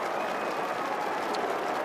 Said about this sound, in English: Finally, something to cheer about for the Crows fans in the crowd.